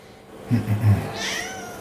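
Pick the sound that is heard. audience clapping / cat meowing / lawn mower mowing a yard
cat meowing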